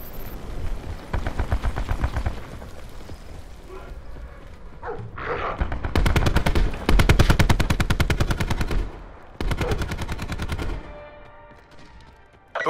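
Video game gunfire in Call of Duty: Black Ops 4 Safeguard mode on the Seaside map, heard as loud, rapid automatic bursts several seconds long with short pauses between them, along with some quieter game effects.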